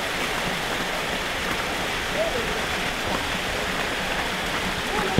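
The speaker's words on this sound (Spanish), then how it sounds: "ya se escucha el sonido del agua" Water of a mountain stream rushes in a steady, broad hiss that stays constant throughout and fills the whole background.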